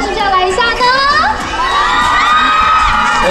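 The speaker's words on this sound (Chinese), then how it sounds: "那我们热烈掌声是不是要来一下呢" Children shouting and a crowd cheering at an American Tourister one-day store manager event, loud and continuous, with high excited voices rising and falling throughout.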